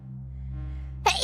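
A VTuber lets out a single sharp sneeze at the very end, after a steady low hum.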